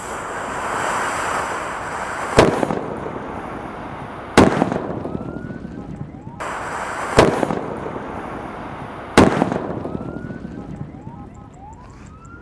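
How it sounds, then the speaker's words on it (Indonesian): Four sharp, loud bangs from paper-wrapped firecrackers crack out at uneven intervals over a constant windy, surf-like rush. "menyalakan mercon buntelan kertas"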